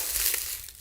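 Lightly roasted dried laver seaweed being crushed by hand inside a plastic bag, a brief close crackling and crinkling rustle that fades slightly toward the end.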